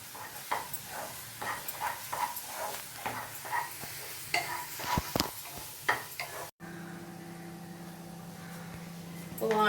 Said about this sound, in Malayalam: അപ്പോൾ അതുവരെ നമ്മളിങ്ങനെ ഇളക്കിക്കൊണ്ടിരിക്കുക